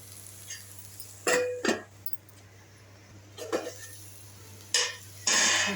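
Raw banana fry being stirred in a pan, after which a lid goes on; a few close scraping clatters and a lid clank sound over a steady low hum, with no talking.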